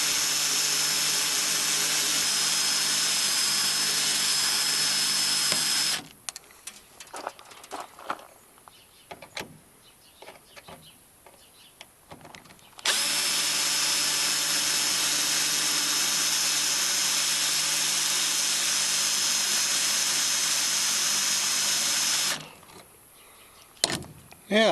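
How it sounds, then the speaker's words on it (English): A power drill bores center-punched holes in a MirroCraft boat. It makes two long, loud, steady whining runs close to the microphone, with quieter handling clatter between them and a short burst near the end. "I'll try and hold the camera while I drill this one."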